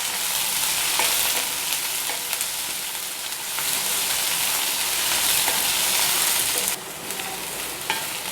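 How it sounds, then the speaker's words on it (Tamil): Chopped large onions sauté in a pan for a goat brain pepper fry, giving a loud, continuous sizzle with occasional stirring scrapes, close and unaccompanied by voices. "வெங்காயம் நல்லா வதங்கட்டும்."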